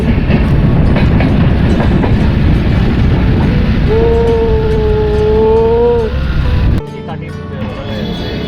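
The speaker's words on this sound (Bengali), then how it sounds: "ফারাক্কা ব্রিজ দিয়ে যাচ্ছি, লাইফে ফার্স্ট টাইম, আর ফার্স্ট এরকম দেখছি যে পাশের থেকে ট্রেনও যাচ্ছে।" A train running alongside the Farakka bridge, a loud, close rumble with rhythmic clatter; a sustained horn-like tone sounds midway, and then the roar drops off sharply near the end.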